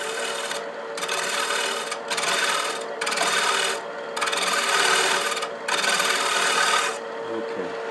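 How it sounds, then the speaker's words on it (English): Rhythmic chisel shear-scraping strokes on wood, about six long passes with brief pauses between, close and fairly loud. "If I can't do a shear scrape."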